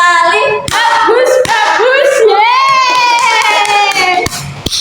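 A school class plays the tepuk nyamuk clapping game, loud children's voices calling out together, punctuated by a few sharp unison hand claps.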